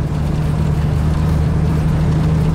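A 1985 Ford F150 pickup with a 300 six-cylinder engine, driving on gravel back roads, gives a steady low engine drone with a constant hum that stays even throughout and has no talking over it.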